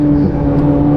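A C8 Corvette Z06 engine holds a steady, loud mechanical drone, running evenly without any clear rise or fall in revs, alone with no talk.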